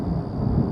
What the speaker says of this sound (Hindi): फिर अचानक बिजली कड़कती है